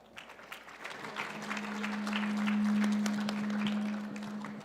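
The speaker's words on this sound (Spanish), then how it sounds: "Un aplauso, por favor." An audience applauds at a conference session, a steady patter of clapping that swells and then eases, with a faint steady tone humming underneath.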